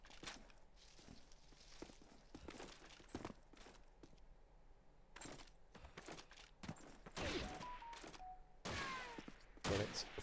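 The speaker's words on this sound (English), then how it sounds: "Bullets flying over from both angles here." Gunfire crackles in the Call of Duty 2 video game during a competitive match. Scattered single shots and short bursts arrive at irregular intervals, some distant and faint, with sharper, louder cracks near the end.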